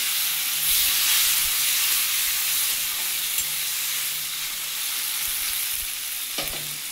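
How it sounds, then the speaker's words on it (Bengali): Garlic fries in a hot pan as tomatoes go in for a masoor dal with vegetables, a steady loud sizzle and hiss with occasional clicks of stirring and no voices. "রসুনটা আমার ভাজা হয়ে গেছে, আমি একটু টমেটোগুলো দিয়ে দেবো।"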